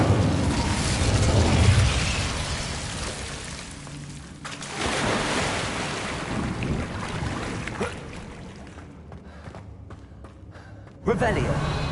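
An Incendiary fire spell cast in Hogwarts Legacy on PS5 produces a loud, roaring burst of flame that fills the mix, then a sustained rushing game soundscape and a sudden fresh surge near the end.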